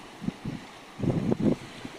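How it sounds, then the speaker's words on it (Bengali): Strong wind and waves at the mouth of the Naf river, where it meets the sea, buffet close by in a few short rumbling gusts, with the heaviest wash coming in the second half. "প্রচণ্ড ঢেউ এবং বাতাস"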